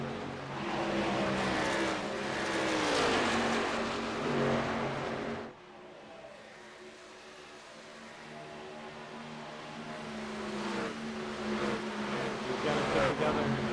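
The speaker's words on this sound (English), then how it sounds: "Three laps to go for Lyle Swearingen in that number 68 truck" Race truck engines roar in an iRacing oval race at Kansas, a loud sustained multi-engine drone with rising and falling pitch as trucks sweep past, under a race commentator's voice.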